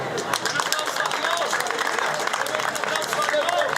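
A crowd of people gathered in the street around a pastor breaks into sustained applause, with chatter and shouts mixed through the clapping.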